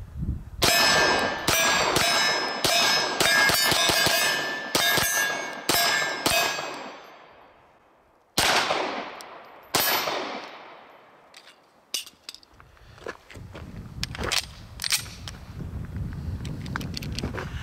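A Beretta 92FS 9mm pistol fires a rapid string of sharp shots followed by metallic clangs of steel targets, then a few more spaced reports echoing outdoors, with wind noise in the background.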